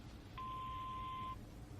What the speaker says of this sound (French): Veuillez laisser un message après le bip sonore.